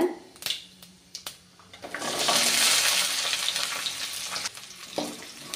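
Halved shallots tipped into hot oil with fennel seeds: a few clinks and taps first, then a sudden loud hiss of frying that settles into a steady close sizzle, with no voices heard.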